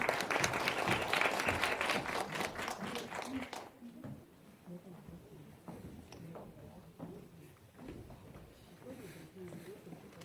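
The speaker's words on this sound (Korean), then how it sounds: "실장님 박수 한 번만 더 부탁드립니다." An audience at an admissions strategy information session claps loudly for a few seconds after the presentation ends, then the applause stops abruptly and quiet murmuring and talk take over.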